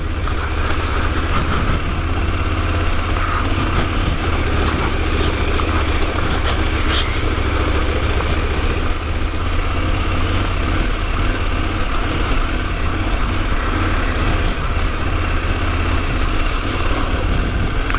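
A motorcycle engine drones steadily and loudly for the whole stretch while riding a narrow mountain road along a cliff edge, with wind rush and no pauses.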